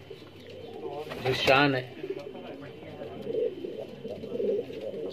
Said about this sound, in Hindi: ये देखिए, ये मेन कबूतर है रामपुर की जो पहचान है